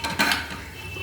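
The lid comes off a frying pan of potato and pointed gourd on a low gas flame with one short metallic clatter, followed by a steady soft hiss. The sound is close and there is no talk.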